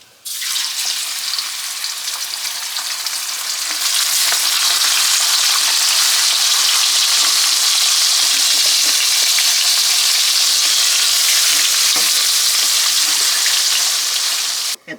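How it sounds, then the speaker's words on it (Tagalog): Pork chops frying in hot oil for bistek give a loud, continuous close-up sizzle with a steady crackling hiss that holds for the whole stretch, with no talking. "na po yung huling batch ng ipiprito ni Mami"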